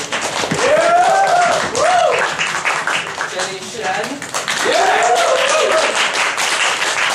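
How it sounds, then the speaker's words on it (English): Audience applause at the MAP ES 2013 event fills the room as a steady wash under a voice reading out names over a microphone. "give a round of applause to Margaret"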